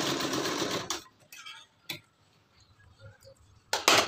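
A sewing machine attaches a button to a designer blouse sleeve, running in a loud stitching burst at the start, then quiet, with short bursts mid-way and another loud burst near the end.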